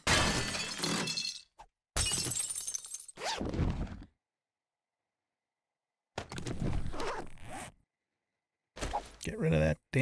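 Glass shattering in the 7 Days to Die video game: several loud, crashing bursts of breaking glass separated by stretches of silence, close and sharp.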